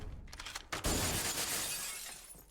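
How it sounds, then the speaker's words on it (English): Glass shatters in Halo: Combat Evolved Anniversary, a sharp crash followed by a bright, close spray of breaking shards that fades over about two seconds. "Glass breaking particles. Delicious."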